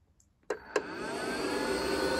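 A VFD-driven spindle on a 220 to 380 volt boost setup starts up. Two sharp clicks come first, then the drive's cooling fan cuts in and a rising whine builds as the spindle spins up toward 12,000 RPM.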